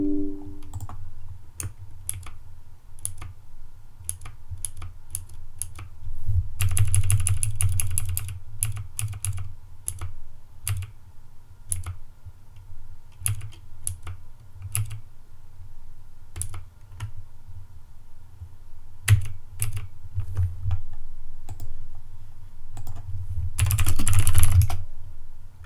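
Steady, fast typing on a computer keyboard while coding, a dense run of crisp key clicks with occasional louder bursts of rapid keystrokes, close and continuous for nearly half a minute.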